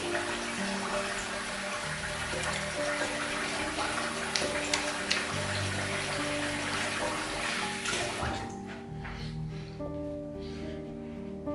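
A safety razor is rinsed under a running tap, a steady close rush of water splashing into a sink that thins out toward the end, broken by a few light metallic knocks.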